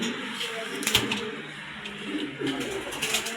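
Pigeons in a loft, racing and fancy breeds kept for sale, coo softly in a few rounded phrases, near and moderately quiet over a low room background.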